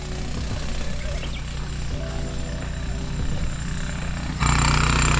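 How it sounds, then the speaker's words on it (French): A jackhammer pounds steadily beside the footpath to Minoh Falls in Japan, a loud, continuous rattling drone that grows heavier and closer in the last second. "Top, le marteau piqueur là"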